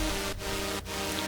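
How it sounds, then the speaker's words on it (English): Standard synth chords from an electronic track ring in dense sustained blocks, breaking briefly between changes, steady and full with no one speaking. "You have the chords that sound something like this."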